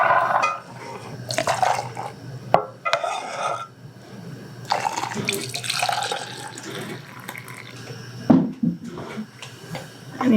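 Orange juice poured from a container into glass canning jars at home, a series of splashy liquid pours and gurgles with brief clinks and pauses, close and moderately loud with no talking.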